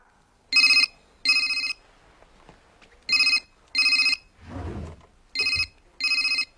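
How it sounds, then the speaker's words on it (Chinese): A mobile phone rings in pairs of bright electronic trills, repeated three times with short gaps, loud and close, while a low rumbling noise passes between the rings. "谁的电话响？"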